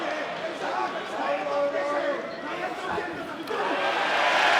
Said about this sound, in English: listen to the crowd's response to that